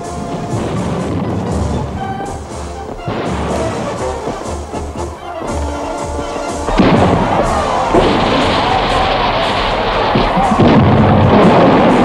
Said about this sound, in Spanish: la población de Itch ha organizado para festejar vuestro cumpleaños unos fuegos artificiales